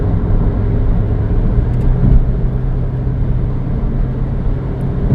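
A Ford Fiesta 1.6 accelerates hard on a toll road after transmission servicing, its engine a deep, steady interior rumble that stays loud and even throughout.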